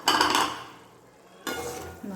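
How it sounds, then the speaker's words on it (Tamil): Bread masala being stirred in a pan: a loud scraping stir of the spoon against the metal, a quieter pause, then another scrape and a light clink, close up without speech. "நல்லா கலந்து விட்டுக்கலாம்."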